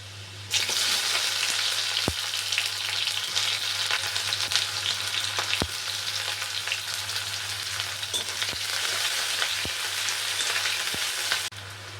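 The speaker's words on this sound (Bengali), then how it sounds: "রসুনটা ভাজা ভাজা হয়ে গেলে দিয়ে দেবো আমি কুচনো পেঁয়াজ" Chopped onions fry in mustard oil with fried whole garlic, a loud, steady hiss that continues throughout, punctuated by a few sharp clicks from stirring.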